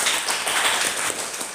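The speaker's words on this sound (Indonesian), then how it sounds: "Kurang meriah, tepuk tangan" An audience at a school organization introduction event claps in a steady, dense wash of hands throughout, with no clear voice breaking through.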